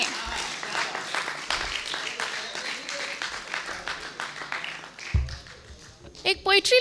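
Audience applause at an open mic poetry session, a crowd clapping steadily at moderate distance for several seconds before it fades, followed by a few louder close sounds near the end.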